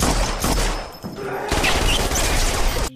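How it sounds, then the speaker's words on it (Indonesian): Rapid, loud bursts of gunfire from a shootout in a crime thriller set around the Hotel Continental, cracking close and nearly continuous, with a brief lull midway before the barrage resumes. "Karena adu tembak antara mereka"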